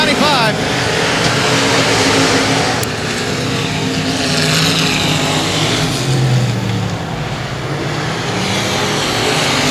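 Race cars roaring around a speedway oval on the final lap, a loud, continuous engine drone with rising and falling passes throughout.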